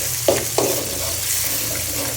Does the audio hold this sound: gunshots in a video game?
no